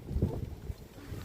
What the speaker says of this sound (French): Ah, puis en plus, il y a le vent, là.